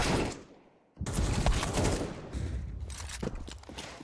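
Rifle fire in the shooter game Counter-Strike 2 during a competitive esports match: rapid bursts of shots through the match audio, a brief drop to near quiet, then sustained loud firing.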